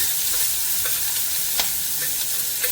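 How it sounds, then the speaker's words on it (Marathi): Crushed garlic and green chili frying in hot oil, a constant close hiss with soft popping and an occasional stirring scrape, steady from start to finish. "तेलामध्ये थोडं फ्राय करून घेते."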